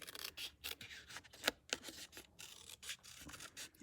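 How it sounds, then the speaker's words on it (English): Scissors fussy-cut a stamped paper piece for a handmade card, giving quiet, close snips and rustling paper in an irregular rhythm, with a few sharper clicks of the blades. "I'm just going to fussy cut that out like you know I love to do."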